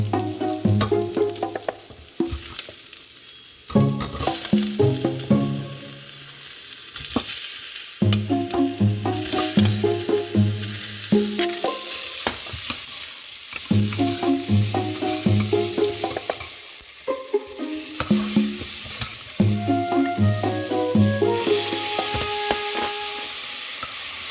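Lamb meat sautés in a pan with browned garlic and onion for adobong tupa, sizzling steadily and close, with repeated clinks and scrapes of a stirring utensil against the pan throughout.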